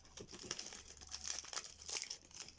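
Crinkly plastic wrapper of a trading card booster pack being torn and opened by hand, a quiet, close run of crackling and rustling lasting a few seconds.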